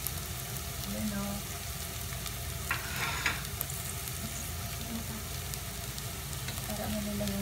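Garlic frying in a pan with a steady, close sizzle and faint stirring scrapes, a few brief clinks, and a low hum underneath, with no one speaking.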